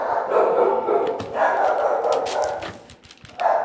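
A dog barks in several loud, close bursts separated by short gaps, with a last bark near the end.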